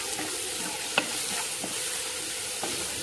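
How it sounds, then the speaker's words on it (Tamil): Tomatoes with salt sautéing in a pan at home, giving a steady soft sizzle with occasional light stirring scrapes and clinks, no voices. "இது கொஞ்சம் தக்காளி வந்து வதங்கட்டும்"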